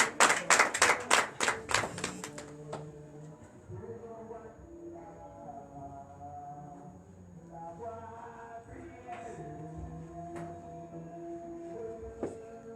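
A church congregation claps in acclamation to Jesus during a Sunday service, a short burst of loud rhythmic clapping that fades within two seconds as voices and tonal sounds carry on.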